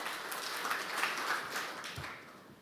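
At a launch event for a TV series, a crowd gives a brief round of clapping, a thick, continuous patter of many hands that tapers off slightly toward the end.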